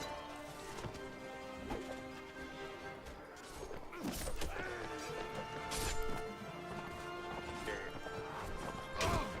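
Horse hooves clip-clop in the Mount & Blade: Warband video game, a quick irregular beat of hoofbeats amid crashes and clangs of battle, with an occasional whinny, fairly faint and busy.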